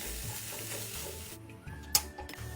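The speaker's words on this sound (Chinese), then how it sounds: "再继续炒一炒，在所有食材炒熟后就能熄火" Ingredients stir-fried in a pan after a splash of water is added, giving a steady close-up sizzle with scraping stirring strokes, then a brief sharp clink near the end.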